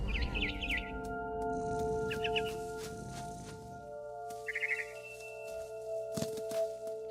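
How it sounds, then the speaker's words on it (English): A barn swallow in What Remains of Edith Finch gives several quick bursts of chirping over a low ambient hum and soft music, close and fairly faint. "It was a barn swallow going back to her nest."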